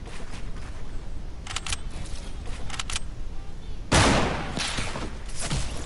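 Video game gunfire from a Scout AR assault rifle: a few scattered shots early on, then a louder close burst of rapid fire near the end, over steady game background noise.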